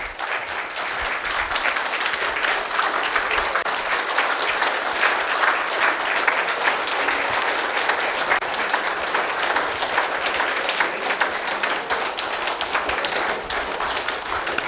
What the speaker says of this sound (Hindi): उससे पहले एक बार खड़े होकर ताली बजाए